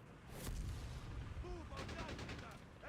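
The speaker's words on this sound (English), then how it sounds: "Scout takes a huge mortar hit on the cutoff." A mortar shell explodes on a scout unit in the Company of Heroes 3 strategy game, a sharp blast followed by crackling debris and further distant booms over a continuous battlefield rumble.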